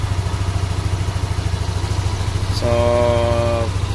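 A motorcycle engine idles in a steady, loud, close putter while being checked for a CKP sensor fault. Near the end a brief clatter sounds and a faint tonal hum joins the engine.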